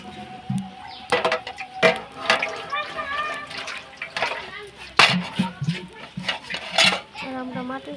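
Water poured onto greens in a pan on a clay stove in a village kitchen for boiling, with splashing and metal pot clatter while a voice talks over it.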